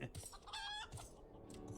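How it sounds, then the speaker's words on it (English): A chicken clucks in Final Fantasy XIV, a short burst of squawky, warbling calls with one drawn-out crow-like note, over faint background game audio. "His trusty chicken"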